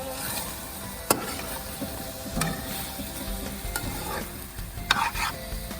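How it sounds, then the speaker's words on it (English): Chopped celery, alongside carrots and sweet pepper, is stirred into a Trinidad stew chicken pot cooking outdoors. A steady sizzle runs throughout, broken by a few sharp scrapes and knocks of the spoon against the pot. "We're gonna add that. Give it a stir."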